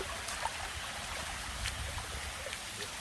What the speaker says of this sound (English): Look, it's a waterfall.